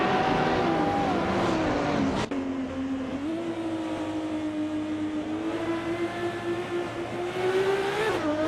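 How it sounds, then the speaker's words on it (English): A 2009 Wiesmann GT MF5 race car in a racing simulation holds a loud, sustained engine tone, briefly dropping pitch at a gear change before climbing again, with a faint rival engine under it. "driving a 2009 Wisman GTM F5. Because nothing says speed like a classic British design with an engine that sounds like thunder"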